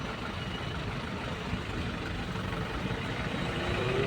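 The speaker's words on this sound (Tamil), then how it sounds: "ஃபுல்லாக டிராஃபிக் பாருங்கள்." Heavy road traffic on a service road in Hosur, a dense, steady rumble of idling and crawling trucks, buses and cars, loud and continuous without a break.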